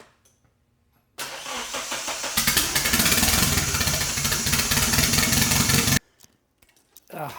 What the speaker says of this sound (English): Brian, go ahead and try starting it again. See if it just starts.